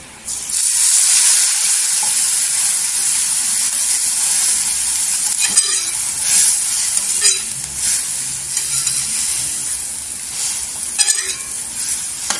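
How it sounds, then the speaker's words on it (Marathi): Milk tea with vermicelli, cardamom powder and sugar being stirred in a pan, a steady close steamy hiss with scattered scraping and clinking of a spoon against the pan. "मिक्स करून घ्यायचं"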